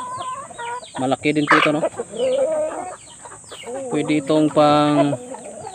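A Shamo aseel Basilan rooster on a farm clucks and calls in short bursts, close by, while someone talks over it.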